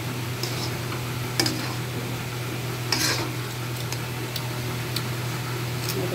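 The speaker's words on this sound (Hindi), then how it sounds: "अब इसे हम बर्तन में निकाल लेंगे।" Roasted masala is scooped from a pan into a vessel, with scattered spoon taps and scrapes over a low steady hum, the clicks light and irregular.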